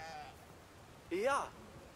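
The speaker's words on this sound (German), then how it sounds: "da drüben sind Schafe." A sheep bleating in the video game Brothers - A Tale of Two Sons, one short wavering bleat over a quiet outdoor game ambience, with a faint earlier call.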